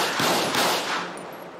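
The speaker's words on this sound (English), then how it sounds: "Dispatch, shots fired, suspect is down." Police gunfire aimed at a suspect in GTA 5, a fast, dense string of loud shots blending into a continuous roar that fades slightly toward the end, with no voices.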